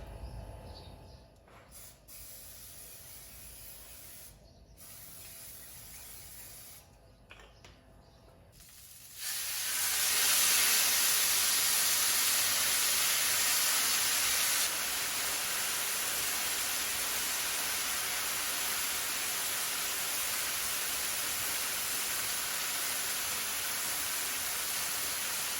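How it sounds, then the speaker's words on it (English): Steaks sear on a Blackstone griddle set to high heat, giving off a loud, steady broadband hiss and sizzle. It starts after a few quieter moments with faint clatter, then holds constant for over fifteen seconds. "All right, so I've laid down the steaks. They're searing here."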